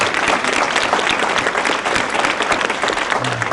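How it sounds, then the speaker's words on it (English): A ribbon-cutting ceremony audience gives the school band and choirs a loud, dense round of applause that continues unbroken from start to finish. "Why don't we just give them another round of applause?"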